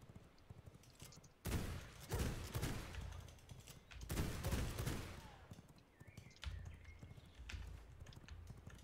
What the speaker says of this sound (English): I hit him with the shotgun